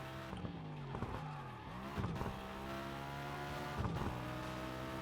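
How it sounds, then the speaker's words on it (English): Car engine and squealing tires in Burnout Paradise: a revving engine rises and drops through gear changes with repeated tire screeches, loud and continuous with no talking. "This car sounds incredible."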